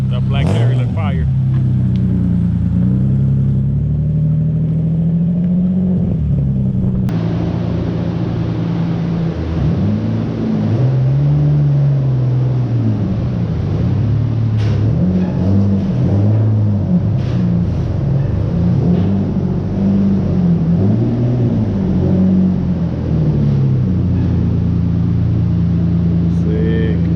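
A turbocharged Nissan 370Z runs on a dyno, its engine droning loud and steady with repeated rises and falls in revs, close, heavy rumble throughout.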